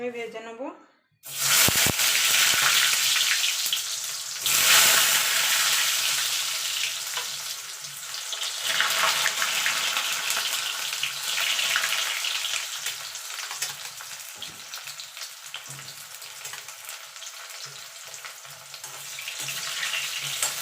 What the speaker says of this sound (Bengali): আমি ভেজে নেব আলুগুলো লাল লাল করে ভেজে তুলে নেবো